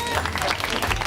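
A live public audience applauds apprentice chocolatiers at a chocolate-making competition, with a brief, dense burst of crowd clapping that fills the moment.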